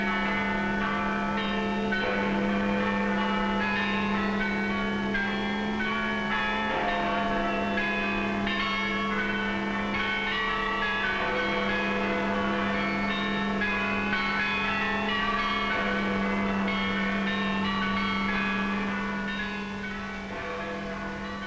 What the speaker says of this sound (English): Now the bells rang out a song of thanksgiving